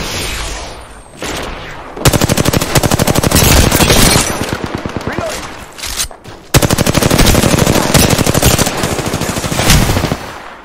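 Video game gunfire pours out in long, rapid automatic bursts, loud and close, with a brief lull between two sustained volleys and almost no talk.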